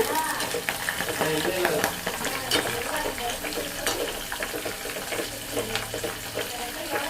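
Herb paste is stirred into oil in a pot for a homemade hair oil, giving a continuous close, wet swishing and scraping that stays fairly loud throughout.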